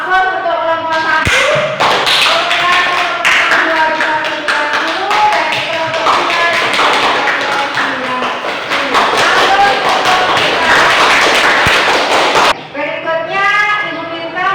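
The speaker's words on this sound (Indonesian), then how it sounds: "Aplaus untuk kelompok 1." Students in a classroom applaud a student group, a dense burst of clapping lasting about ten seconds, with voices talking before and after it.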